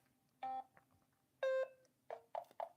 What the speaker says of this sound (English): I'm going to start the timer because I like a little bit of sound effects.